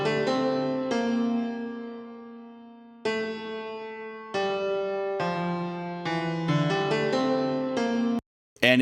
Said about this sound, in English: the second verse, the only thing that's different is this piano track right here.